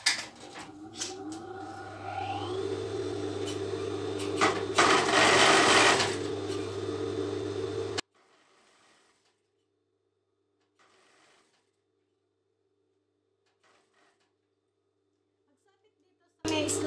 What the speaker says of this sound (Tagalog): Then, tahiin na natin.